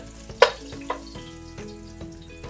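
Ginger sautéing in a hot pan, a low steady sizzle with one sharp clatter near the start and a smaller knock just after, no voices.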